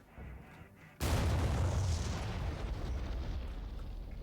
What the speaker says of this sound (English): down long enough for my missile to get in